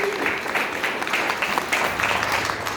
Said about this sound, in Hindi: जोरदार ताली बजाएं आपके दास के लिए।